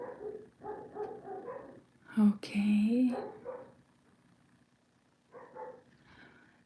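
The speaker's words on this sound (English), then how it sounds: "neighbor dogs are very loud." A neighbor's dogs bark repeatedly in short bursts nearby and fairly loud, with gaps between volleys, while a calm voice talks quietly in between.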